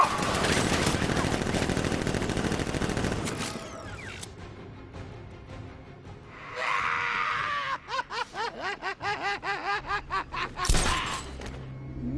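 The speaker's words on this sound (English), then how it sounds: "Open fire! Shoot everything!" Gunfire in the Batman Arkham Knight video game comes as a dense rattle of shots, then after a pause a series of rapid bursts and a sharp blast, with a shout and game noise mixed in.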